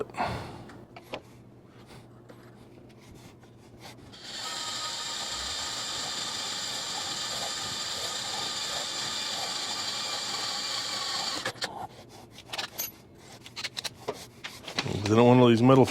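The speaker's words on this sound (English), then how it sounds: "And we drill it." A power drill boring into a metal drawer, a fairly quiet, steady grinding whir lasting several seconds, preceded and followed by soft handling noises and brief movement in a workshop.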